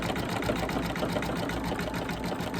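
A domestic sewing machine hums steadily as it stitches through multiple layers of fabric on an Easter bunny table runner, a continuous close whirring with no pauses and no talk.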